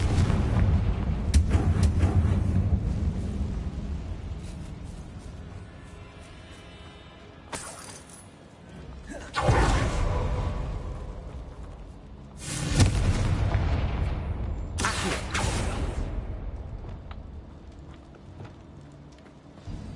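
Confringo blasting spells detonate in a Harry Potter video game: three loud, booming explosions with crackling debris, separated by a few seconds, over a continuous game soundscape.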